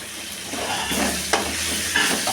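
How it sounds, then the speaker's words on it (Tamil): Thuthuvalai leaves are sautéed with tomato, onion, chili and chana dal in oil. The sizzle is soft and steady, with stirring scrapes and a few sharper clinks of a spoon against the pan, close by. "இந்த தூதுவளை இலையை போட்டு போட்டு வணக்கிட்டு"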